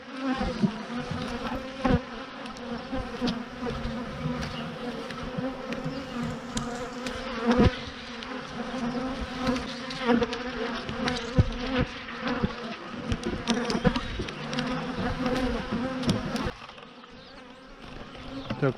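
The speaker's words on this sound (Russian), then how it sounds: "пчела активно посещает поилку, берет воду" Honeybees buzz steadily and close up around a water feeder set out for the hive, a dense continuous hum of many insects with individual bees droning past.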